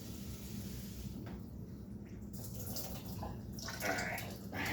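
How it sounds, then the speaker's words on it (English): Water is sloshed and rinsed inside an emptied can, a low rushing, gurgling wash close by that grows brighter and splashier toward the end, with no talking. "then I'll put water in it, wash it out, drain it again"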